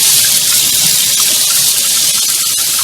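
Hot water from a tankless water heater pouring steadily from a tap at 1.5 gallons per minute, a loud, continuous hissing gush with no talk over it.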